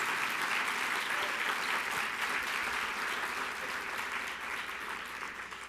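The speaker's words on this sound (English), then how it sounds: "If you would like to applaud for them, you may do so." A lecture audience at a Nashville Reads author event applauds the AV staff and volunteers, a dense, sustained wash of clapping from many hands that holds steady and eases slightly toward the end.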